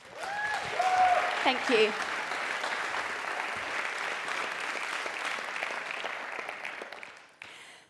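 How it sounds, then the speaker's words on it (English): A TEDx audience applauds to welcome a junior speaker: steady, moderately loud clapping from a crowd lasting several seconds before tapering off, with a few voices and a brief spoken thanks over it early on. "Warm round of applause."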